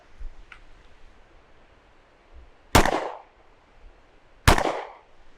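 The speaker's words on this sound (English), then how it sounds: "All right, here we go. 2 shots." Two sharp gunshots ring out at outdoor target practice, spaced nearly two seconds apart, each a loud, abrupt crack with a short decaying tail over quiet background.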